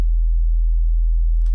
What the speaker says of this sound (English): they just grab a sine wave, they play it in a low octave